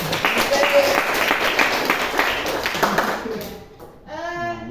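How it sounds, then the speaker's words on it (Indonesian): A classroom group claps together, a brisk, dense round of applause that runs for about three seconds and then breaks off as a voice takes over. "Tepuk tangan untuk 12 senang."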